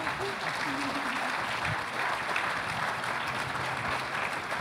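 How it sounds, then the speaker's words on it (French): Indoor audience applauding at an award ceremony for a sustainable-development trophy, dense sustained clapping from a crowd, with a voice briefly audible underneath at the start. "On peut les applaudir encore une fois."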